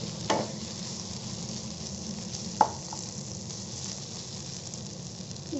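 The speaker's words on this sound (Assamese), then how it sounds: "চাওক মোৰ আলু মটৰ আৰু পনীৰখিনি ধুনীয়াকৈ ফ্ৰাই হৈ গৈছে" Potatoes, peas and paneer fry in a pan with a dense, continuous sizzle, broken by a couple of sharp clinks from stirring.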